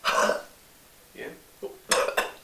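A person coughs several times in short, close, fairly quiet bursts, with pauses between them in an otherwise quiet room.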